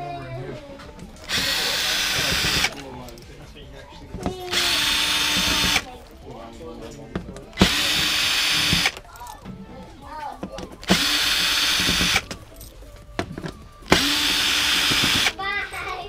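Power drill backing out the upper bumper bolts on a 2016-2024 Camaro SS: five loud whirring bursts of a couple of seconds each, close by, with someone talking in the pauses between them.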